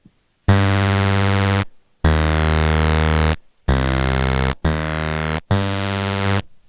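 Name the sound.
analog synthesizer patch imitating a vowel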